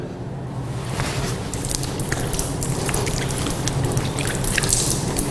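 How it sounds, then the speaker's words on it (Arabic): Water pours and trickles steadily over feet during a ritual ablution wash, a continuous close splashing stream with small drips, no voices. "الآن غسل القدمين"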